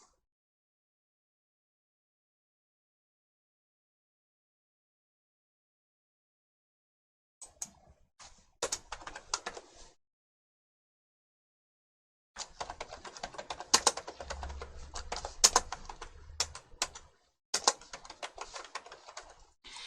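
Computer keyboard typing comes in two bursts of quick, irregular clicks and key taps after a long silence, close and fairly quiet, with no voice over it.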